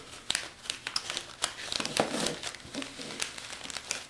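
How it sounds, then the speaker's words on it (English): A phone slid into a crinkly plastic pouch: close, busy crumpling and crinkling with sharp little crackles, continuous and irregular for a few seconds, no talking. "The last step is to put the phone in"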